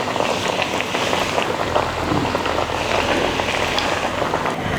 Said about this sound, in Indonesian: Ini sepertinya minyaknya udah panas. Sekarang kita goreng katsu tempenya.